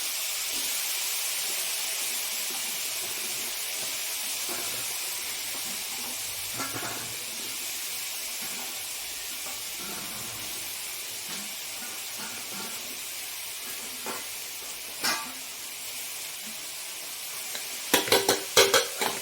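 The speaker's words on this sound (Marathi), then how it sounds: "तेल उडतंय गरम ह्याच्यात टाकल्यावर" Hot oil sizzles in a pan, with a steady bright hiss throughout and a few louder pops and spatters near the end.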